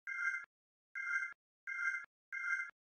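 Reversed sample pitched up an octave and played at double speed in FL Studio: four short, bright, buzzy tones in a quick repeating pattern, each cutting off sharply, clean and faint with nothing underneath.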